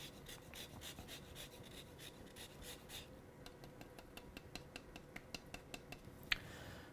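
A zester rasps across a lime's peel in quiet, scratchy strokes that become a crisp, regular series of short scrapes toward the end, close up and alone.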